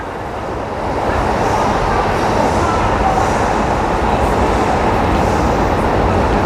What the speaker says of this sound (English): I can hear a train, I can't see it.